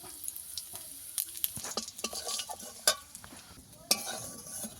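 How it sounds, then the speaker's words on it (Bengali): Dried red chillies and cumin fry in hot oil for a village-style sour fish dish, a steady close sizzle broken by sharp scrapes and clinks of a spoon stirring the pan, with no voices. "লঙ্কা জিরে ভালো করে ভেজে নিয়েছি"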